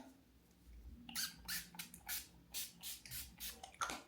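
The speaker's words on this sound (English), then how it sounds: "a little bit of perfume" Cashmere Vanilla body spray by Frenchie, a travel-size perfume bottle, hisses in a run of short, close bursts, roughly eight quick sprays in a loose rhythm.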